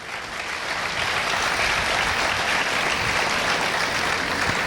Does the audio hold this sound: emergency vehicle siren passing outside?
no